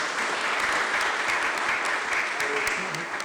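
An audience at a formal session in the Vatican gives a sustained round of applause for a birthday greeting, a thick, even wash of clapping with a voice faintly audible beneath it.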